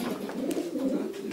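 Soft, low pigeon cooing rolls on continuously, close by, in a gentle throaty murmur with faint background noise.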